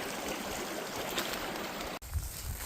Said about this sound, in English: Nice little babbling brook.